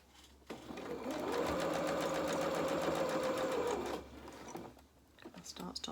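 A domestic sewing machine stitches small pyjama bottoms in one steady run of a few seconds, close and even. Quiet talk and handling sounds come before and after.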